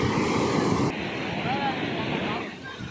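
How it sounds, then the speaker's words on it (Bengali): Strong wind roars against the microphone while sea waves wash in at the shore in Vizag, a steady, loud, broadband rush with no clear pauses. "প্রচণ্ড হাওয়া চলছে আর সমুদ্রের ঢেউ তো মানে জাস্ট অসাম লাগছে এখানে"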